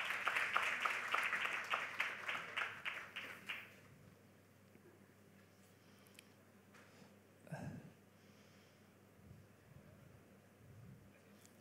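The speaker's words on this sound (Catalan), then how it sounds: "Un fort aplaudiment" An audience at an international pastry showcase claps loudly for about four seconds, the applause then tapering off into a quiet room with faint shuffling and a soft thump.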